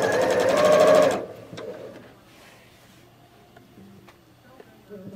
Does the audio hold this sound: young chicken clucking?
no